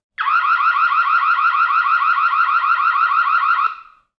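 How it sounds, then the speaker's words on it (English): Noorio security camera alarm blaring, a loud rapid pulsing electronic siren tone that holds for about three and a half seconds, then cuts off, with no talk. "In case of emergency, you can also trigger the alarm function of the device directly through the app."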